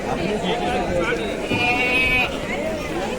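A ram bleats several times, nasal and wavering, over a busy background of people talking nearby at a crowded livestock market.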